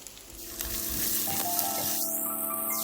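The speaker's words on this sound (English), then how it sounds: "we're going to add our diced garlic." Diced garlic sizzles in a frying pan of softened sliced garlic, a steady close hiss that swells louder midway, with no talking.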